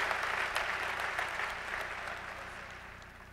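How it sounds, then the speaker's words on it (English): A church gathering's audience breaks into applause, a fairly soft, even wash of clapping that gradually fades, heard from a distance. "Yeah, that's worthy of a clap right there"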